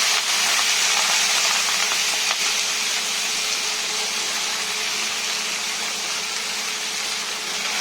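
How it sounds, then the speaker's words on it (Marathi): A bunch of fenugreek greens hits hot oil tempering in a Maharashtrian home kitchen, giving a loud, steady, broadband sizzle and hiss that holds evenly throughout with no talking. "त्यात ही फोडणीमध्ये ही भाजी आपण घालणार आहोत।"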